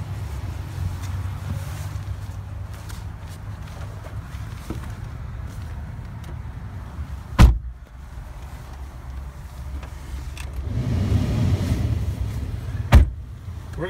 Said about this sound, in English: Let's take you guys on a quick test drive.